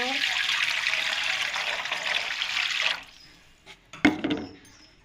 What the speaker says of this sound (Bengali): কড়াইয়ে পরিমাণ পানি দিয়ে দেব